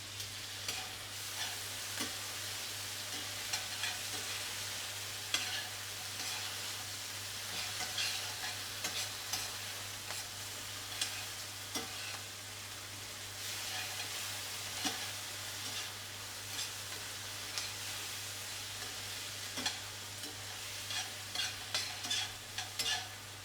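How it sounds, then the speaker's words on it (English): Vegetables stir-frying in a pan used for steak, a steady close sizzle with frequent scraping and stirring clicks throughout. "Effectively a stir fry"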